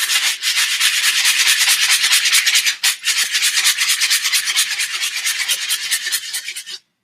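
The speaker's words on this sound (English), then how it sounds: "This rough sandpaper is definitely taking care of the shaping of it." Rough, heavy-grade sandpaper rubs steadily along a wooden wand being shaped, a close, loud, continuous scratchy sanding with quick back-and-forth strokes and one brief pause partway through.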